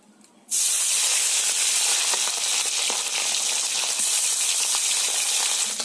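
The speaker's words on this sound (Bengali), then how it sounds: "এবার নুন হলুদ মাখিয়ে রাখা মাছগুলো ভেজে নেব।" Bata fish marinated in salt and turmeric drop into hot mustard oil, and after a moment of quiet a loud, steady hissing sizzle breaks out and holds, with faint crackles inside it.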